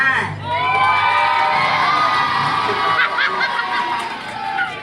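A crowd at an LGBTQ pride-night pageant cheers and shouts loudly for a candidate, a dense close wall of whoops and high-pitched yells that swells, dips briefly and rises again.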